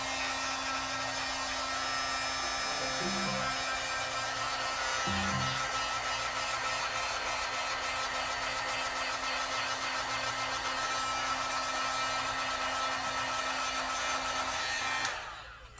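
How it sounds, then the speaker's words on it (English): A heat gun blows hot air with a constant loud whooshing roar and faint electric hum, running steadily before cutting off at the end. "I'm going to use my heat gun"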